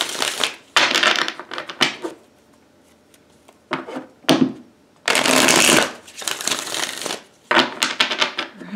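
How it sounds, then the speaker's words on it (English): Close, crisp bursts of tarot cards being shuffled, several riffles separated by short quiet gaps, loud and papery. "Let me shuffle these cards."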